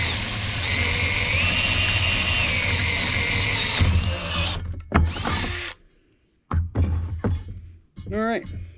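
A power drill bores a hole into a diesel tank during a school bus conversion, a steady loud whine for about four seconds, then short bursts and stops with voices talking in between.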